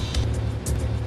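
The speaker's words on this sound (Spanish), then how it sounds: "Pero de repente, se acerca un coche" A car approaching on an estate, a steady low engine rumble that holds level and close across a short moment, with no voices.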